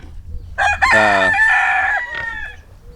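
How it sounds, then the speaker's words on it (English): A rooster crows loudly and close on a farm, one long drawn-out crow with chickens clucking around it and a brief cluck afterward, no talk over it. "and also our chickens from last year and the chickens from this year too"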